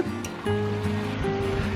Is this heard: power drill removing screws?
no